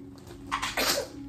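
A single brief, breathy sneeze bursts out close by, over a low steady hum.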